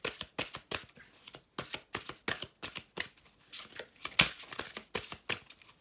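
Oracle fairy cards are shuffled by hand, producing a quick run of crisp, rhythmic flicks and slaps up close, steady throughout with no speech.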